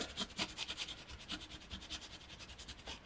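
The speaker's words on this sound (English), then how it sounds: "And then the last little bit I just kind of scrub." A paint brush scrubs the last of its black paint onto tabletop terrain in quick, rhythmic dry strokes, each a short bristly rasp repeating steadily, close and soft.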